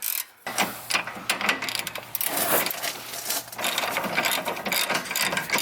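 A ratchet wrench tightens a bolt on the camber arm of a 2006 Infiniti G35 suspension, giving rapid continuous clicking, close and loud, with no talk.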